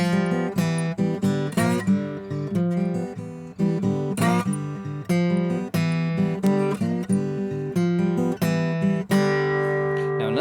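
Slide guitar in open G tuning plays a blues lick with quick slides and pull-offs, a steady stream of plucked, ringing notes and short phrases, close and clear with no talking.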